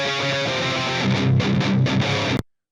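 Heavily distorted metal guitar played through virtual amp and cabinet plugins, dense chugging chords ringing loud and full before cutting off abruptly into silence.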